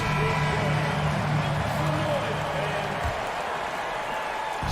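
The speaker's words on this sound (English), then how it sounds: "Please give a big round of applause for your Celtics." An arena crowd at a Boston Celtics basketball game against the Timberwolves applauds and cheers in a steady, dense roar. A voice talks over the crowd noise, which eases slightly near the end.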